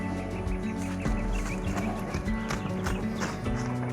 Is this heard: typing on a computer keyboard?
no